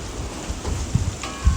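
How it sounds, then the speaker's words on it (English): Rain falls on a wet, cold, cloudy flower garden, a dense continuous patter of drops with a few heavier splashes nearby, no voices. "it started raining again"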